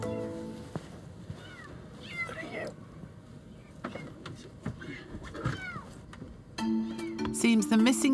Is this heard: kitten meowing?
yes